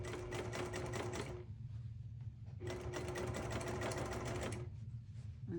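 A sewing machine basting the layers of a baby star quilt runs in two bursts of rapid, even stitching, pausing briefly between them, close and loud.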